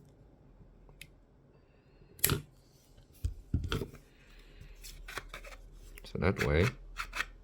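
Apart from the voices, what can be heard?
cutting off a small nub on a 3D-printed part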